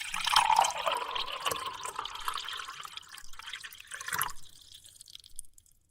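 Coffee pours steadily into a cup, a close, bright liquid stream that thins and softens as the cup fills, trailing off into a few last drips and quiet near the end, with no one talking.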